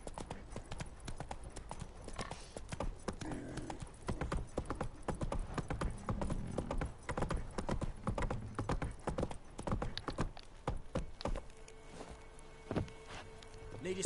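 Hooves of Roach, Geralt's horse in The Witcher 3, clop in a quick, rapid rhythm at a steady trot, close and moderately loud over faint ambient game sound.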